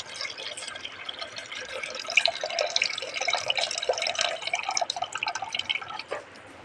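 Water splashes and drips as soaked, swollen food is rinsed and drained, a close, steady trickle with scattered droplets that cuts off near the end.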